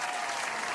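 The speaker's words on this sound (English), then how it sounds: "Let's give a round of applause for this incredible mix." A studio audience gives a brief burst of steady applause following a DJ's all-vinyl mix, dense clapping heard close and evenly for under a second with no voices.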